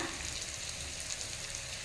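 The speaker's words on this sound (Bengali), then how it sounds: "পনিরগুলো ঠিক যখন এইরকম ভাজা হয়ে যাবে তখন উঠিয়ে নিতে হবে" Paneer cubes fry over high flame in hot oil in a kadai, giving a steady, dense sizzle close by with no voices.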